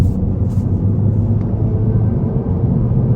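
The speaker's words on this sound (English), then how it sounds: "This is about half throttle." A 2024 Honda Civic Sport Hatchback accelerates at half throttle in econ mode, heard from inside the cabin as a steady, loud low engine and road rumble with no talk.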